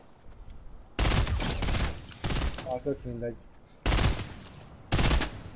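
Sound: gunfire in the video game Fortnite

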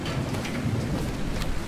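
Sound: rain in video game Dying Light

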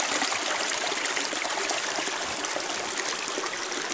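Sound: mountain river flowing in the Carpathians

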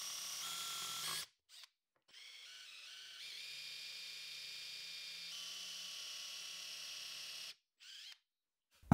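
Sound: power drill drilling holes for threaded inserts in a coffee table

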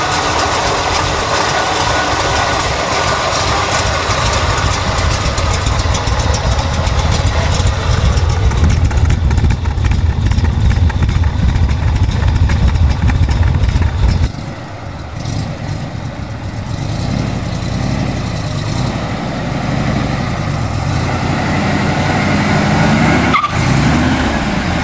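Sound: 1975 Corvette Sportswagon engine idling with aggressive cam

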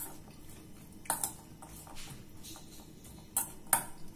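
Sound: mixing aloo kabli masala with a spoon

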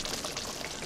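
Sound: shrimp sizzling loudly in pan

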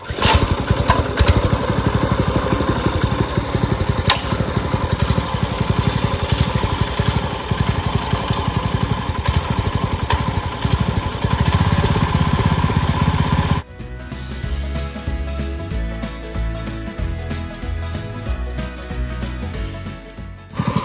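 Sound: engine running with a gear tooth grinding

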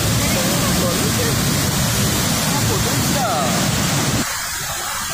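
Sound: Pailon del Diablo waterfall rushing water, Banos, Ecuador

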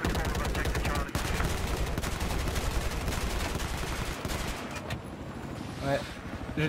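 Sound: gunfire in the Squad video game

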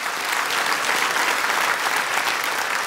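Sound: studio audience applause

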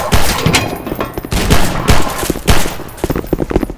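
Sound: gunfire in Half-Life 2 roleplay video game

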